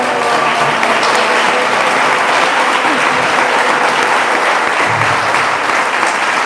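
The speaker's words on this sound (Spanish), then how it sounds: "Entonces un aplauso de ella para ella nuevamente." A large audience applauds steadily and loudly for the full length at a political event in Mexico, dense continuous clapping with no break.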